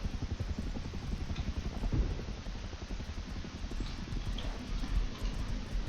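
Rapid horse hooves clip-clop steadily over a dense, noisy rumble in the game Rust, the galloping rhythm continuing without pause.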